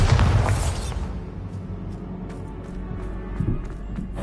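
The Bombarda blasting spell in Hogwarts Legacy bursts with a loud, deep boom that fades into low rumbling and light footsteps.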